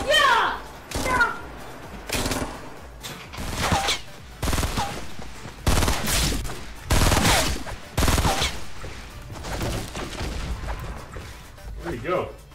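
Heavy video game gunfire, with loud bursts and repeated volleys of shots spread through the scene, alongside excited talking between players.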